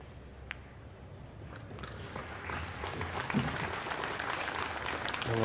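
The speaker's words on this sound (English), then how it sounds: "It looked like even Strickland applauding." Scattered applause from spectators in a pool hall during a professional 10-ball championship match, steady broadband clapping at moderate level with faint crowd murmur beneath.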